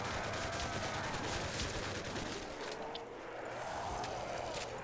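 Continuous gunfire in a zombies video game on a custom map, a dense, steady stream of rapid shots running the whole stretch with no pauses.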